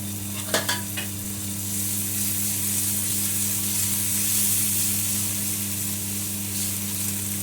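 Onion and tomato frying in butter on a griddle for masala pav, a soft steady sizzle after a couple of sharp utensil clinks, with a constant hum underneath.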